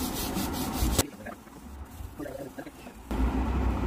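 A scrubber rubs back and forth against an antique brass piece being cleaned, a loud, steady scratching that pauses briefly midway and then resumes, close up.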